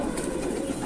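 A Kasni Babra pigeon from Bareilly gives a soft, steady low cooing close by, a continuous murmuring throat sound with no talk over it.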